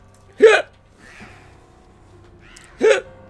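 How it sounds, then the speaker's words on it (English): Two sharp, loud hiccups from someone who has just eaten, close by and about two seconds apart, with faint quieter sounds in between. "Also, I just ate, so hiccups."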